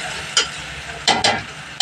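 Okra pieces frying in a pan, a soft continuous sizzle broken by a few short scraping stirs.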